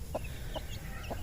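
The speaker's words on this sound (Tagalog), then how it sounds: "tingnan nyo yung aking mga alagang manok dito" Pet chickens in a grassy farmyard give three soft, evenly spaced clucks over a steady low outdoor background.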